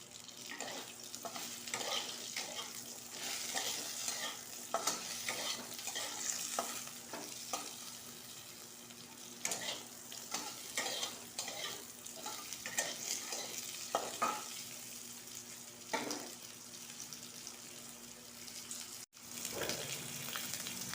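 Potatoes with turmeric and salt stirred in a frying pan while cooking a simple vegetarian dish, a steady close sizzle broken by repeated scraping and clacking strokes of a spoon for the full length, with no voices.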